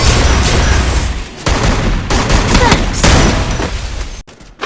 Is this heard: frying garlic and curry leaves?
no